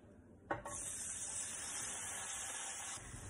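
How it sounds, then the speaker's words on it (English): Pineapple pieces sautéing in avocado oil in a pan, a sudden loud sizzle at the start that settles into a steady, close frying hiss with faint stirring scrapes. "Avocado oil. Saute those pineapples."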